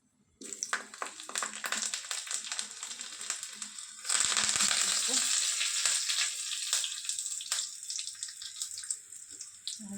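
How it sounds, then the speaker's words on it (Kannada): Oil sizzles and crackles steadily in a hot pan as mustard seeds and dried red chilies are tempered, growing louder and denser partway through, with no voices. "ಒಣಗಿದ ಮೆಣಸಿನ್ಕಾಯಿ ಹಾಕಿ ಒಗ್ಗರಣೆ ಕೊಟ್ಟರೆ"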